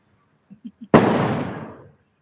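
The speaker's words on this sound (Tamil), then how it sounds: "வெடி கேக்குதா சவுண்டு" Three small soft firecracker pops, then one sharp loud firecracker bang whose crackling burst rings out and fades over about a second, during Diwali celebrations.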